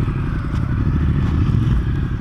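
A motorcycle engine rumbles steadily up close, a loud low drone with faint rattling and no voices.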